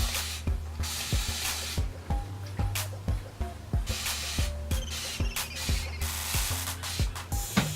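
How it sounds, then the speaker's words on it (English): Rapid repeated pumps of a spray bottle of aloe vera juice onto hair, short hissing bursts in an even rhythm, close by, with faint background noise. "I'm going to start off with the aloe vera juice in a spray bottle"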